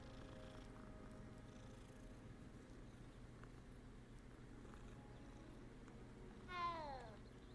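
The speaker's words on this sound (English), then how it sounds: "It's a different cat!" A cat in the video game Hogwarts Legacy purrs steadily and quietly under game ambience, then gives one short rising meow near the end.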